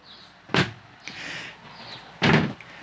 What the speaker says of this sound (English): You open this door and just pull this one, and it finds itself with magnets